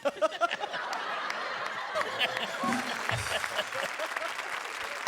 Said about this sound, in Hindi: जोरदार तालियां शकील सिद्दीकी के लिए